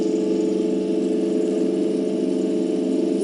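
DC shunt motor running steadily at 1433 RPM: a continuous, even hum and whir, close and loud, with no change in pitch or level throughout.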